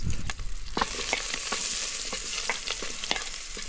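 Ginger and onion sauté in rendered pork fat with a bright, steady sizzle, punctuated by light stirring taps and scrapes of a utensil close by.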